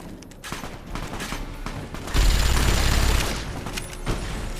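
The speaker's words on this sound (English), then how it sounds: "Get our minigun out." A minigun fires in Fallout: New Vegas in a dense, rattling burst of rapid shots that swells loud for about a second in the middle, with scattered gunfire and impacts around it.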